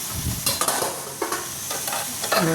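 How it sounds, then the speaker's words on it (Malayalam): Tomatoes with salt are sautéed and stirred in a hot pan, a continuous close sizzle punctuated by repeated scraping strokes of the spoon, with no voices. "ഇട്ട് നന്നായിട്ട് വഴറ്റിയെടുക്കണം"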